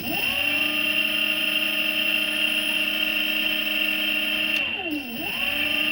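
An e-rickshaw motor on a repaired smart controller runs steadily at low speed on the bench, giving a close, constant electric whine with a brief drop and pitch dip near the end before recovering.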